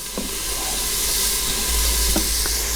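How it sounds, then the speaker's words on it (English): Chopped onion and celery hit hot olive oil in an Instant Pot, giving a steady broad sizzle and hiss with a few faint clicks and stirring sounds near the close, with no talking. "So now I'm putting in some chopped onion and some chopped celery."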